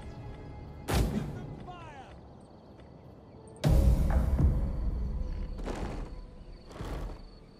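Roman army units fire flaming shots in a Rome campaign strategy video game, several heavy booming volleys spaced seconds apart, each decaying into a rumbling tail, with a voice talking between them.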